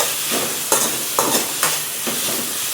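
Onions fry in a pan with a loud, steady hiss and sizzle, broken by several sharp stirring scrapes.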